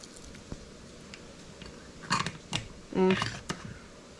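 A few crisp, crunchy bites and chews of freeze-dried kale close up, in short irregular bursts with quiet gaps between them.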